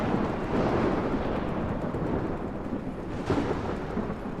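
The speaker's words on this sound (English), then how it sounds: "Lightning storm isn't even near me." Deep rolling thunder from a lightning storm in ARK: Survival Ascended on the Scorched Earth map, a broad continuous rumble with a slight swell near the end, heard alone.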